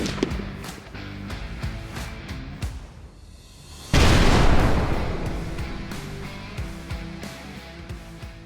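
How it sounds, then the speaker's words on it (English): A Sig P320 AXG Classic pistol fires a few rounds, with sharp close reports and a single loud boom near the middle that rings out and fades, and no talking. "We're going to shoot a few rounds through it and tell you our initial impressions of the Sig P320 AXG"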